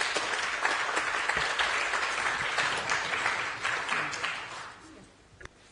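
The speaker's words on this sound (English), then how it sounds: "Please join me in a round of applause as our deputation leaves the chamber" A round of applause in a London borough council chamber during a full budget meeting, steady and moderately distant, thinning out toward the end.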